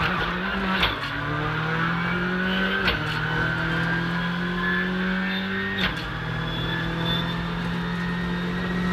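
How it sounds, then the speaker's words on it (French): A Rally2 rally car accelerating hard on an asphalt stage, engine droning steadily with a few quick gear changes and brief revs between, loud and close. "Bon Adrien, une Rallye 2, ça change de la Rallye 1 que tu as piloté en Sardaigne ce week-end."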